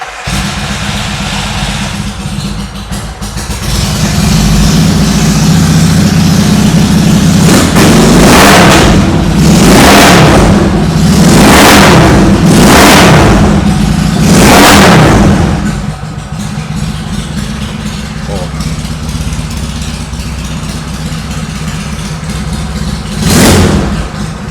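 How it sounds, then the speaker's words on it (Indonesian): A custom Yamaha XS650 650cc twin-cylinder motorcycle engine running loud and close, idling with a steady throb and then revved hard several times in a row before settling back to idle, with one final quick blip. "Asik banget kan suaranya, 650 cc 2 silinder."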